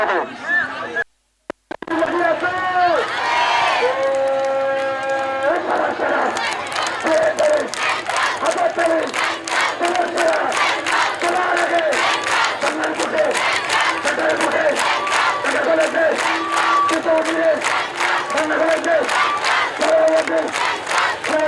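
Students of Dhaka Central University protesting at the Shikkha Bhaban junction chant slogans in loud rhythmic unison, led call-and-response style, with dense crowd noise, a brief drop near the start and repeated clapping beats throughout.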